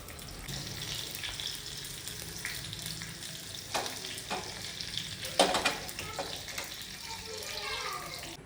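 Wet herbs crackle and spit in hot oil in a pan, a continuous sizzle with bursts of louder popping and stirring, and people talk softly over it.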